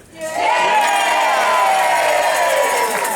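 An audience at a live radio show in Guerneville cheers and hollers loudly, voices swelling in after a short quiet start into a sustained roar of whoops and shouts.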